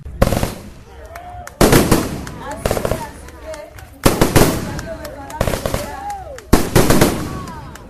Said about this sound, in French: toute la population se réunissent à la mairie pour assister au lancement des feux d'artifice